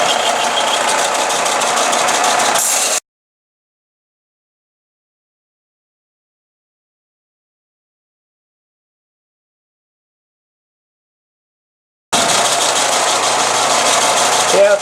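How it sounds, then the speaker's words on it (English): An angle grinder grinds scale off a steel forging to prepare it for welding, heard as two loud, harsh, steady bursts with a long stretch of silence between them. "next step here is to grind off some of the scale from the forging so that way we can weld everything together"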